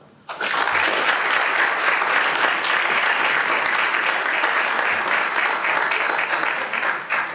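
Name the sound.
audience applause welcoming a speaker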